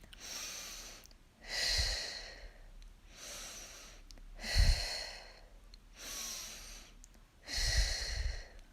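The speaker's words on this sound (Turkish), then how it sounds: "burundan nefes alıp ağızdan nefes vermeyi unutmuyoruz" Slow, rhythmic breathing during an exercise warm-up, drawn in through the nose and let out through the mouth, about five close, clear breath cycles with no other sound.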